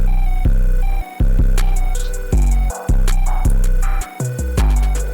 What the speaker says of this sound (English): When we move to the verse, we're using the lower pitched melody sound like this.